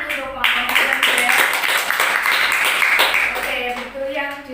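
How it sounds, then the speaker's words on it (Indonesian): A classroom full of students claps for a presenting group during a microteaching lesson, a dense burst of applause lasting a few seconds before it fades out. "tepuk tangan untuk kelompok yang sudah"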